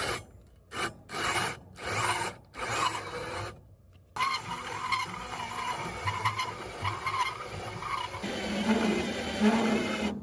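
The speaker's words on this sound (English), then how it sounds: "we're gonna be cutting through 1 inch of steel with a brand new hole saw" DeWalt hand drill driving a brand new hole saw through 1 inch steel, clamped down for a DIY dump trailer build: a harsh, continuous grinding rasp that starts and stops in short bursts before running steadily.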